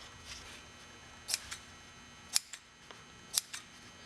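Scissors snip through excess vinyl in three crisp, close cuts about a second apart, each with a sharp click and a small follow-up snip, against a quiet background.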